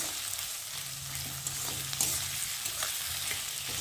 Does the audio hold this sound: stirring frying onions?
yes